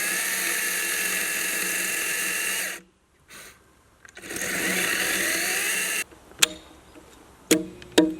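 A chainsaw cuts a notch into a wooden post in two sustained, steady bursts separated by a short pause, followed by a few faint clicks and knocks.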